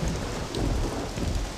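Heavy rain pours with a deep rumble of thunder rolling underneath in the video game Mafia, loud and continuous with no voices.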